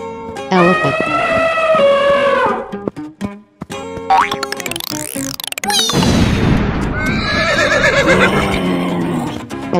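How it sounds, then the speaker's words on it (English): Horse neighing: a loud, close whinny with a shaky rising-and-falling pitch, followed by cartoonish boing effects and then a second long neigh. "Horse."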